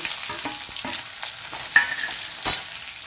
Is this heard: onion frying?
yes